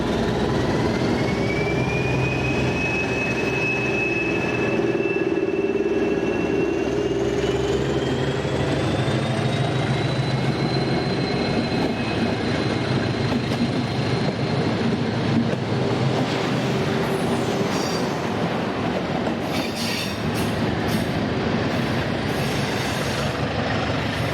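Locomotive 1415 pulls away from Ernida station in the Douro Valley, a steady rumbling diesel drone with a rising whine and screeching wheel squeal over rail noise, sustained and fairly close with no talking.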